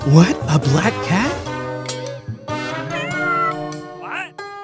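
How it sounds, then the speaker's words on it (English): A cat meows several times in quick succession amid bright tonal music and chimes, with a voice also present; the meows are clear and close, rising and falling in pitch. "What? A black cat?"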